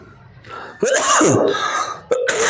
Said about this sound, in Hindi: थोड़ा खांसी हो गया इधर, बरसात में थोड़ा भींग भंगे थे